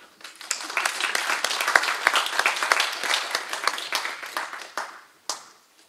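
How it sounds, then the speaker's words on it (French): Audience at an Académie du Var fine-arts commission session claps in a steady, dense round of applause lasting several seconds, tapering off near the end with a few final claps. "Je vous demande donc de l'applaudir."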